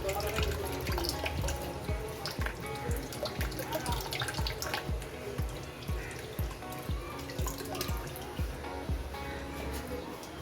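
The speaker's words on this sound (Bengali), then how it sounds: "এই ডিমগুলো এবার দিয়ে দিচ্ছি জলের মধ্যে।" Eggs lowered one after another into a pot of water for boiling, giving a steady run of soft watery plops and splashes, fairly close, with a busy kitchen background throughout.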